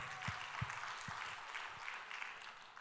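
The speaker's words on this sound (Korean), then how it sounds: "박수로." A church congregation applauds during a Sunday worship service, a soft, distant wash of clapping that holds steady with a few low thumps near the start.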